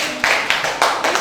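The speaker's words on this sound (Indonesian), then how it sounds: "Tepuk tangan buat kelompok 3." A small classroom group at an elementary school in Fakfak claps for a student group, giving about five sharp, close, evenly spaced claps in quick rhythm.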